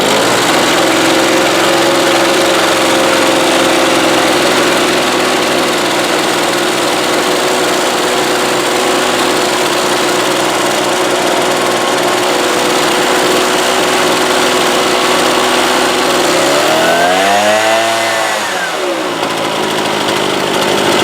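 A small two-stroke leaf blower engine, started on choke after sitting unused, runs steadily and loudly up close for a long stretch, then revs up and down near the end.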